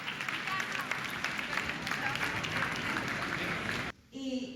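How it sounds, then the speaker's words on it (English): A film-screening audience applauds Takeshi Kitano as he enters, a continuous, fairly faint wash of clapping with murmured voices, cutting off abruptly near the end before a brief different sound. "Inside, he is greeted by applause."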